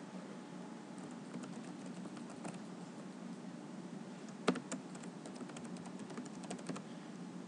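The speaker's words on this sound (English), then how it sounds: "I'm going to type in my password" Quiet, steady keystrokes on a computer keyboard as a password is typed, a soft irregular patter with a slightly louder key press midway, heard alone.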